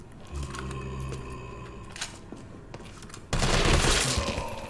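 Gunfire in Resident Evil 3 Remake comes as a run of clicky mechanical rapid shots with a whirring undertone, then a loud, dense burst of blasts that swells at the end and fades slightly.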